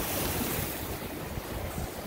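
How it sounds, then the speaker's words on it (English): Powerful ocean waves pound the shore at Morant Point, Jamaica, near the lighthouse: a continuous, loud, close roar of surf with wind buffeting the microphone and no voices. "There's a lot of powerful waves, guys."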